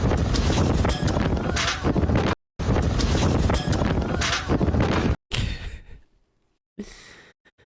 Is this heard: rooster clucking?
no